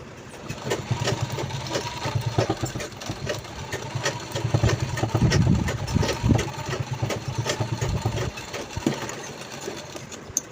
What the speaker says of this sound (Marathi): हे बघा, या साईडने आपण शिलाई केली.